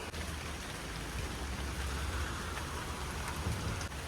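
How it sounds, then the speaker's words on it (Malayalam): Steady rain falls by a river during fishing, a dense, even hiss with a low rumble underneath, continuous throughout with no voices. "ചൂണ്ടലിട്ട് ഇങ്ങനെ തുടങ്ങിയപ്പോൾ നല്ല മഴയായിട്ട് പെയ്യാൻ തുടങ്ങിട്ടോ"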